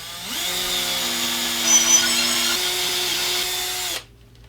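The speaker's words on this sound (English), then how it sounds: "drill out the hole" A power drill whirs steadily through wood of a Telecaster guitar build for about four seconds, close and loud, its pitch rising briefly midway before cutting off abruptly.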